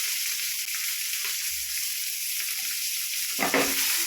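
Greens and onion sautéing in a pan, a loud, steady hiss and sizzle throughout, with a few stirring knocks toward the end.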